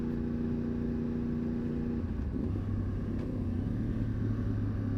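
Low engine rumble of a classic car passing on the road, steady and moderately distant, its pitch shifting midway as it goes by, with no talk.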